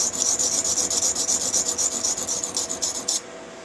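Sandvik steel is sharpened on a Norton Econo stone in a close, continuous rasping scrape, a rhythmic back-and-forth of strokes that stops abruptly near the end.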